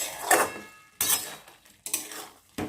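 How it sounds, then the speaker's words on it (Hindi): A spoon scrapes and knocks against a pan while curd chicken is stirred without oil, four distinct clanking strokes spaced about a second apart, close and clear with no voices. "देखिए आप भी इसमें चलाते रहेंगे थोड़ी देर के लिए।"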